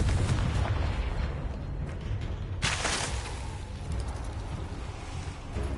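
A Confringo blasting spell fires in the Hogwarts Legacy video game, a sudden loud burst that rises out of steady, dense battle noise and then trails off as the rumbling din carries on.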